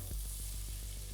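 Onion sizzling in butter in a pan, a steady broadband hiss with a low hum underneath and faint rhythmic stirring pulses, close and even throughout.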